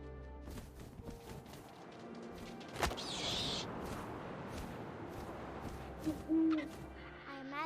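A low owl hoot sounds from the What Remains of Edith Finch video game, a few soft calls over a faint, hissing wind ambience with occasional muffled thumps and rustles.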